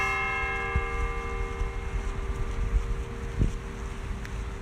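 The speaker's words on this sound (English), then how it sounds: "I'm gonna wait a second for the sound of the bells to go away" Steady, sustained ringing of bells with long overlapping tones, heard over wind noise and a low rumble throughout.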